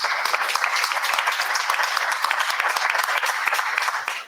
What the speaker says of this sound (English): A big clap to the presenter.